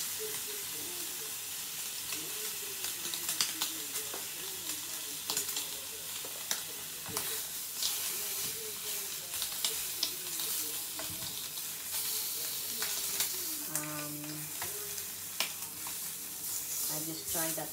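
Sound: bacon frying in a pan

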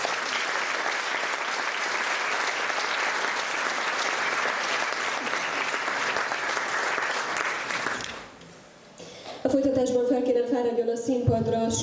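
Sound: audience applause for award recipient

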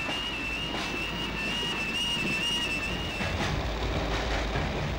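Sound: passenger train on the line to North Woolwich

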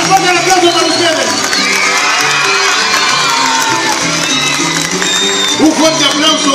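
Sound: crowd applauding and cheering at festival

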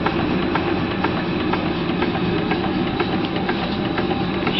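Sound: early box bed steam engine running under steam

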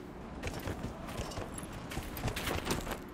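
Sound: horse hooves clip-clopping in Dragon Age: Inquisition video game

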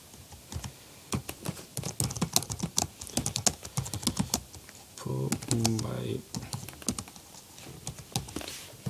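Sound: typing on a computer keyboard in Eclipse

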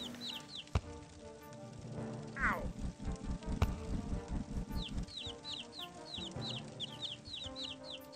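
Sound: chickens clucking in a Shrek video game

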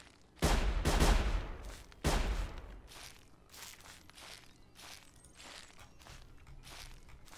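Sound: gunfire in video game Sir, You Are Being Hunted

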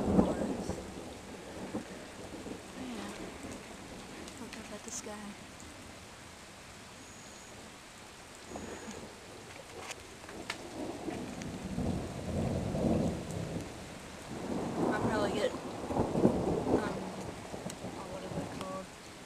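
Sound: thunderstorm with thunder and rain

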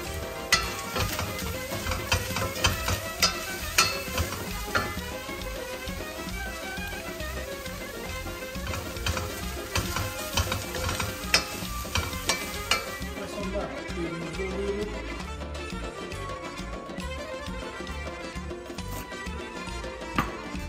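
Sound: food sizzling in a frying pan

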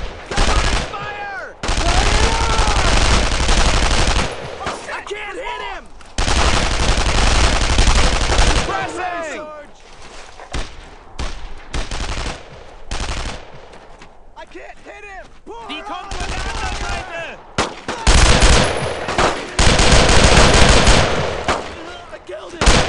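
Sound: machine gun suppressing fire in Brothers in Arms: Road to Hill 30 video game

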